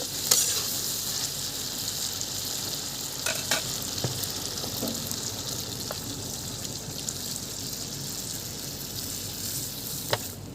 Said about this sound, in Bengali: এখন এর মধ্যে আমি জল অ্যাড করে দেব